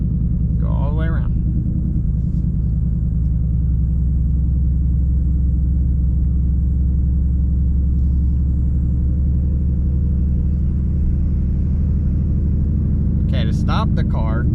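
A manual-transmission car drives along with a steady low engine rumble and road noise filling the whole stretch, while people talk briefly at the start and near the end.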